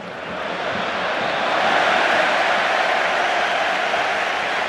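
A large football stadium crowd at Barcelona versus Borussia Dortmund, a broad steady roar of cheering that swells slightly and holds, distant and diffuse.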